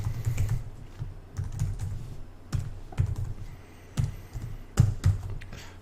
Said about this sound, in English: we need to type in exactly as it is on screen